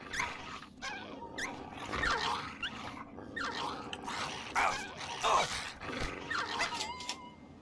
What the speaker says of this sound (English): That's fine, just a dog.